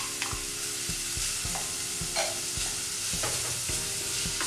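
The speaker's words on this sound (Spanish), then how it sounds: "Y comenzamos a rehogar. Esperamos que la cebolla común transparente un poco." Green onion tops and regular onion sauté in a pan, giving a steady bright sizzle broken by a few soft spatula scrapes and taps, close and clear, with no voices.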